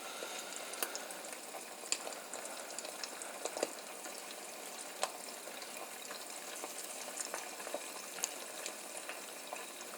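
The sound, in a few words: eggs cooking in a pan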